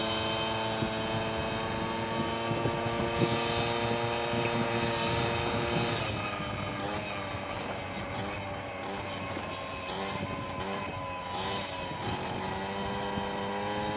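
A tuned Honda Hobbit moped's four-stroke engine runs steadily at idle, a continuous buzzing drone with a strong harmonic hum, close and loud, with a few brief metallic ticks near the end.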